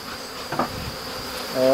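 Black honeybees buzz in a close, steady drone around hives during breeding and queen-cell checks, with a few brief knocks and a louder swell of buzzing near the end.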